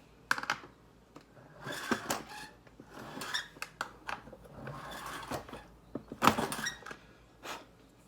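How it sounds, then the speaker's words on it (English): A 10 gauge shotgun shell is fold crimped on a reloading press, a quiet run of close mechanical clicks, creaks and rustles coming in short bursts with no talk. "So we're just gonna go ahead and fold crimp it."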